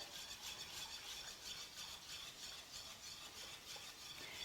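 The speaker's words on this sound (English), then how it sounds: "just going to whisk the milk powder in gradually" Milk powder being whisked gradually into milk, giving a faint, steady, rhythmic scraping and swishing of whisk strokes against the bowl with no voices.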